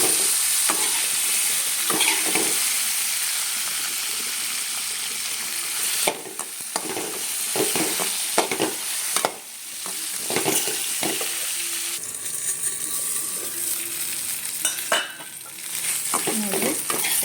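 Capsicum fries in a pan, a loud, steady sizzle with frequent scraping and clattering from stirring and a few brief dips where the pan is handled.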